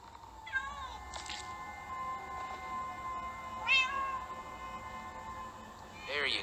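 Several cats in the Minecraft Story Mode video game meow in turn, with rising wails at intervals over a faint background, a few of them sounding close.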